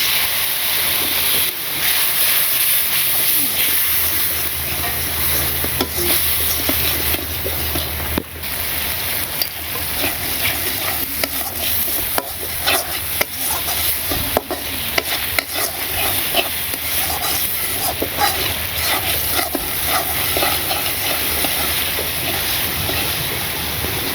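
Spices with salt, turmeric and chili frying and being stirred in a pan for a village home-cooked dish, a steady close sizzle with repeated scraping strokes of the spoon.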